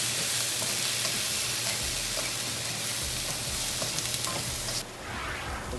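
Chicken fried rice sizzles steadily in a hot pan while being stirred and mixed before eggs go in, a dense continuous frying hiss with soft scraping that eases slightly near the end.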